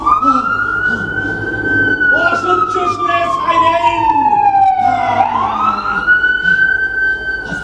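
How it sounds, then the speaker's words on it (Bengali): Loud, close wailing sirens of a police car and an ambulance, a rising-and-falling tone sweeping slowly up and down with overlapping pitch slides and a low vehicle rumble beneath. "পুলিশের গাড়ি, তারপর অ্যাম্বুলেন্সের ফ্লাশিং লাইট। এক্স্যাক্টলি। অসহ্য সুরে সাইরেন।"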